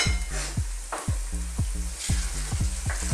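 Flour-thickened goat kaldereta sauce is stirred in a hot pan, with steady sizzling and bubbling broken by repeated scraping strokes in an even rhythm, close and fairly loud, with no talking.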